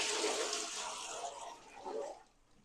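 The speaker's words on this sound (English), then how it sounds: "it forces that flap in the bottom to actually let the toilet flush like this" A toilet flushes from a bucket of water poured into the bowl, a rushing, gurgling surge that gradually drains away, close by with no talking.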